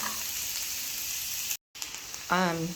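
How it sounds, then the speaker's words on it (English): Chopped onions and garlic sauté in a hot pan with a steady, close sizzle that drops out for a moment, and a voice briefly comes in at the end. "Now I'm going to add in my onions and my garlic, and I want to cook that until it's translucent, so it's sauteed."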